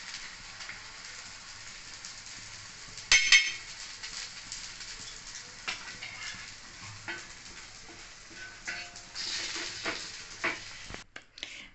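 Bread slices frying in ghee in a pan, a quiet steady sizzle with a sharp clink of a utensil early on and soft stirring and scraping throughout, with no talk.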